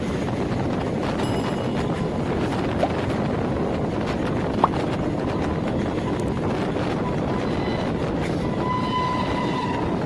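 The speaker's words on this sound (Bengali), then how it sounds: "আমাদের ট্রেন এখন শক্তিগড় স্টেশন থেকে ছাড়লো" A local train on the Howrah–Bardhaman chord line, just pulled out of Shaktigarh station, rumbles steadily and loudly with constant rolling clatter from inside the carriage.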